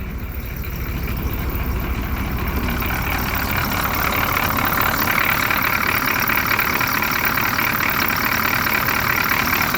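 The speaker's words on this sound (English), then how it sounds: "The bearing on in the alternator starts to go bad, so the noise you hear is probably from the front bearing of the alternator." A cold-started Oldsmobile 5.7 diesel idles at about 500 RPM, with a worn front alternator bearing. It makes a loud, steady, unbroken drone that continues throughout with no change in pace.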